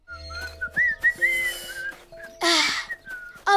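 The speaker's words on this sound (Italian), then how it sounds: "Riuscite a far fischiare i cartoni dei succhi di frutta molto bene." Juice cartons blown into to make them whistle, producing a string of short, breathy, warbling whistles of varying pitch with pauses between, one burst louder and noisier than the rest, close by.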